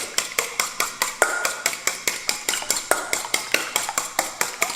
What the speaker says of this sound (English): We start off with our 2 eggs in a bowl, and I'm going to mix those.